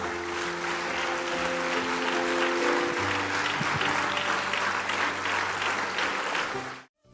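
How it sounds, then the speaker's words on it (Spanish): A church congregation gives a long round of applause, with steady dense clapping and some cheering that stops abruptly at the end. "Le damos un aplauso al Señor."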